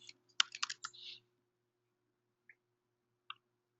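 A computer keyboard typing a name: a quick, close burst of clicky keystrokes in the first second, then silence broken by two isolated key taps.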